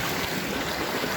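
A waterfall on a hiking trail pours cold water in a steady, broadband rush with no break or voice, heard close for just over a second.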